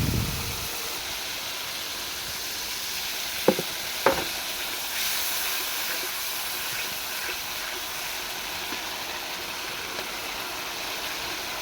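Chili powder, turmeric and salt hitting hot oil in a pan for a small-fish dish, giving a steady soft sizzle with a couple of brief stirring clicks early on, no voices.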